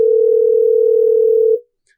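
A steady single-pitched telephone tone drones loud and unbroken while a call waits to be answered, then cuts off, leaving near silence.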